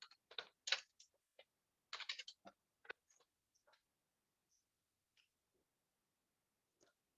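Login credentials typed on a computer keyboard: bursts of quick, close key clicks cluster early, then thin out into a few isolated taps separated by quiet gaps.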